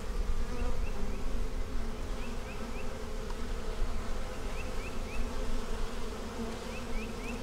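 Honeybees buzz steadily inside a hive that has no brood but plenty of food, while the colony waits for a new queen to hatch; a dense, continuous close drone fills the whole stretch with no talking.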